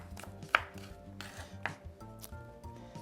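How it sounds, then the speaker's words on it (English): A knife finely chops a yellow onion on a board, a quick run of close, crisp chopping taps with a louder strike near the start, and no talking. "So we're going to cut that onion really fine, really good there."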